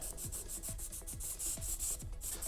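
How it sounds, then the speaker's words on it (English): Rhythmic rubbing strokes of a sanding stick smoothing a pipe reducer on a jet pack prop, about nine steady back-and-forth passes, close and moderately quiet, with no talking. "I'm just going to take the sanding stick and smooth that out."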